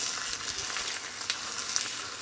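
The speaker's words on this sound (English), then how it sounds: "I'm gonna come back over here and I'm gonna stir my eggs." Eggs stirred in a hot pan sizzle and fry steadily, with faint scraping ticks from the utensil scattered through the sound; it is close and continuous, and nobody talks.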